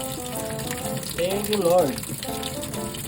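Water drains from an automatic washing machine with a steady, soft gushing that swells briefly in the middle, heard under a person speaking.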